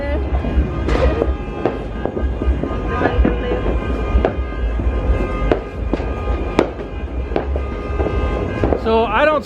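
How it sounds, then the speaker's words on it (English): New Year's Eve fireworks going off at midnight, a busy stream of sharp bangs and crackling bursts, some close and some farther away, over a constant background roar, with people's voices mixed in. "So I don't see the fireworks."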